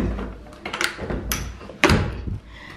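A sliding door in an empty home is worked back and forth, with close knocks, a scraping slide and a sharp latching thunk as it locks and unlocks.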